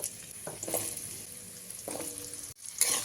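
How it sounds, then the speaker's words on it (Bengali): Chopped carrots sizzling and crackling in hot oil, with a few stirring scrapes and clinks, close and steady with no talking. "এবারে ওই তেলের মধ্যেই দিয়ে দিচ্ছি কেটে রাখা গাজরগুলো"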